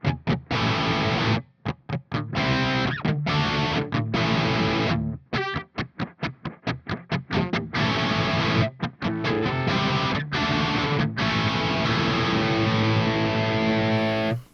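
Electric guitar played through a crunchy overdrive-style distortion pedal with the gain raised slightly, loud chugging chords and choppy stops in a fast, stuttering rhythm, sustained ringing passages between, no talking.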